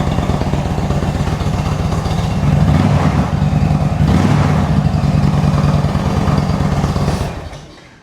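An Indian Chieftain motorcycle engine, running on a newly replaced battery, idles close and loud with a steady low rumble, swelling briefly around midway and then cutting off near the end.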